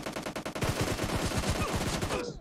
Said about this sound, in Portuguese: E olha como saem os tiros, né?